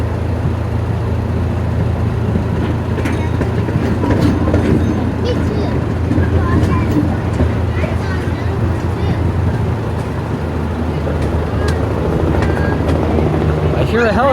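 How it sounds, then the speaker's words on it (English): A steady low rotor drone of a helicopter fills the background, continuous and fairly loud, with people talking over it. "I hear a helicopter."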